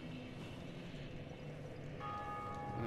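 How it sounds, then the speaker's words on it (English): A bell rings in Dark Souls Remastered, a faint, distant tolling tone with a sustained ring that grows slightly clearer toward the end over quiet game ambience. "That's other people actually ringing the bell."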